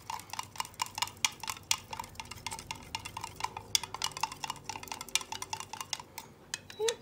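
A mixture for an ornament mold being stirred in a container, with rapid, irregular clinking and scraping of a utensil against the sides continuing throughout, close and fairly quiet, with no talking.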